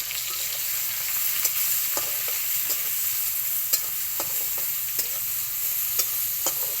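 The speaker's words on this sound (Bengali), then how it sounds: "চিংড়ি মাছটা একটু ভেজে নেব।" Shrimp sizzle in a little hot oil in a pan with salt and turmeric, a steady close frying hiss broken by small clicks and spatters at irregular moments. No one speaks.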